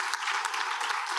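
An audience at a Rotary club meeting claps briefly: a dense, even burst of many hands, moderately loud, with no voices.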